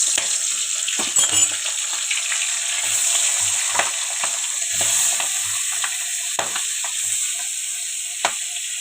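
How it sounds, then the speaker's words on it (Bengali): Shrimp frying in hot oil, a constant bright sizzle with scattered pops and spatters, plus occasional low knocks of a pan or utensil. "মাছটা ভাজা হয়ে গেছে"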